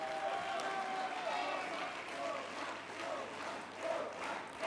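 Applause from a party congress audience greeting a speech, a steady wash of many hands, moderately distant and fairly quiet, continuing evenly throughout.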